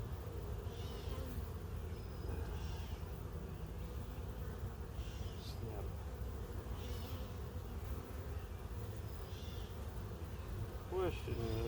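Honey bees hum around an open hive during a tree-line hive check, a steady low buzzing drone that persists throughout, fairly faint.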